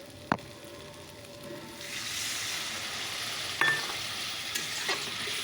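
Water is poured into spices and mustard frying in a pan: a sharp knock, then a soft steady hiss of sizzle and steam broken by a few utensil clicks.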